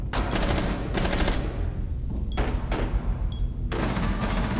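Rapid automatic gunfire in Rainbow Six Siege on a yacht map, several loud close bursts separated by short pauses, with sharp metallic clicks in between.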